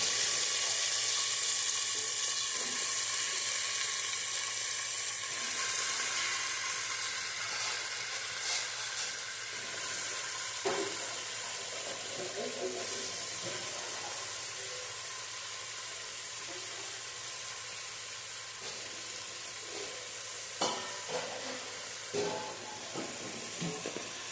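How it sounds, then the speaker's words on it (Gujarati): About 1.5 kilograms of potatoes cook in hot oil for a Gujarati potato curry, making a long, continuous sizzle and hiss with occasional stirring clatter, loud at first and easing slightly over time. "ઘડીક આપણે એને તેલમાં ચડવા દેશું।"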